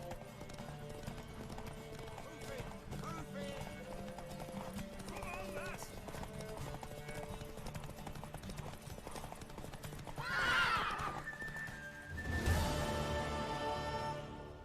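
Hooves clip-clop rhythmically for several seconds, then a horse neighs loudly twice near the end, with background music underneath, in The Witcher 3.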